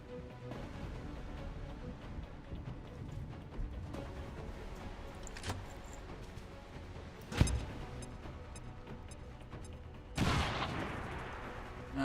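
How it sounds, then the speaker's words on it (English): A grenade goes off in the XCOM Long War strategy game as a sharp synthetic blast with a short rumbling tail, followed a few seconds later by a second burst, both over a quiet, steady game background. "let's see what this grenade does"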